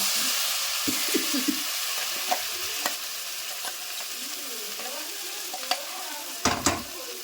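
A puree paste frying in a pan, with a steady close sizzle under repeated scraping and knocking strokes of a spoon as it is stirred, and a sharper clatter near the end.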